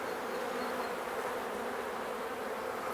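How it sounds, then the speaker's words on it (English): Agitated honey bees inside a polystyrene hive give off a dense, steady buzzing drone that stays close and even throughout, with no voices. "So bees aren't terribly happy"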